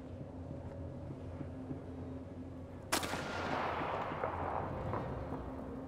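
A single sharp sniper gunshot cracks out in the war-survival game This War of Mine, with a long rumbling echo trailing off over a steady low ambient hum, no voices.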